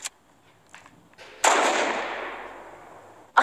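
Sniper rifle shots in Fortnite: a few sharp cracks, one loud close report with a long ringing tail, and another sharp shot at the end, separated by near silence.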